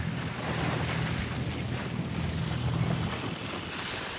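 A sailboat motor sailing on Lake Erie, with a steady low engine drone under continuous wind buffeting and washing waves, loud and unbroken throughout.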